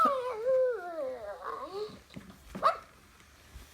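A synthetic, electronic-sounding bark and whimper from a Hasbro Joy for All robotic toy pup, with warbling tonal whines, followed by a short sharp yip, fairly close and clear.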